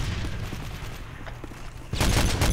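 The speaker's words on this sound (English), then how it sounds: "Oh, getting shot from three angles." Gunfire in the video game Modern Warfare 3 on the Bakaara map, a dense stretch of rapid shots that swells into a louder, harsher burst toward the end, with no talk.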